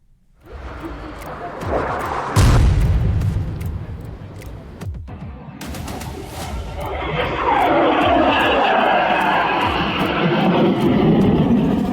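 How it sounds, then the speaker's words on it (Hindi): An Indian Air Force MiG-21 fighter jet at an Air Force Day air show roars loudly overhead, its engine noise surging and then holding as a sustained rush, with voices mixed in. "मिग-21 अपने आखिरी एयर शो में शामिल होने जा रहा है"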